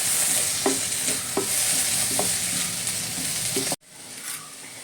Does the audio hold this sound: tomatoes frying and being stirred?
yes